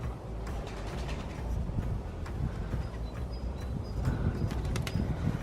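Pigeons or doves nesting inside a ruined fort coo faintly amid steady wind rumble and scattered chirps, distant and partly masked by the noisy outdoor background.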